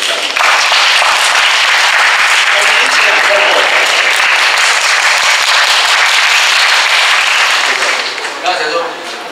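A crowd of middle school students in Fenglin, Hualien claps loudly and continuously in a hall. The dense, sustained applause fills almost the whole stretch and only tapers near the end as a voice comes in.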